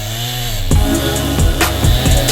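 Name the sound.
trees being chopped down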